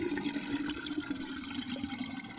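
Toilet flush in the Alpine horror game Mundaun, a steady rushing wash of water with trickling detail that holds at moderate loudness throughout, with no voices over it.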